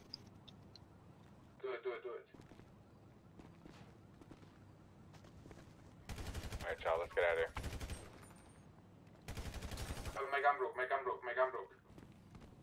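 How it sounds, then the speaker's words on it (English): Video game gunfire in a city robbery mission: two loud, sharp bursts of shots stand out against quieter stretches, while players talk over the action between the volleys. "Might as well start shooting the other guy now."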